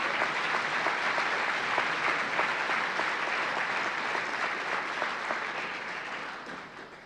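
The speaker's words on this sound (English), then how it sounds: "Let's hear a round of applause for all those great heroes." Sustained applause from a luncheon audience honoring hall of fame inductees, dense steady clapping filling the room before tapering slightly at the end.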